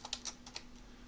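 Java code is typed on a computer keyboard in a short burst of five or six crisp, close keystrokes over a faint steady hum, with no talking.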